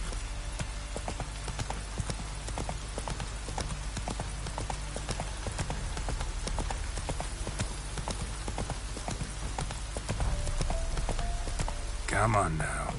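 Roach the horse's hooves in The Witcher 3, a steady run of clip-clop footfalls in a regular rhythm, close and moderately loud over a low ambient bed, with a brief louder burst near the end.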